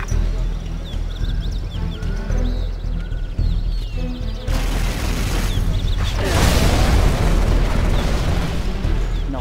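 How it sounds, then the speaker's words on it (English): Airstrike explosions in the video game Command & Conquer Generals Zero Hour: deep rumbling booms that swell midway into a dense, loud roar of blasts over steady battle noise. "Launching airstrike."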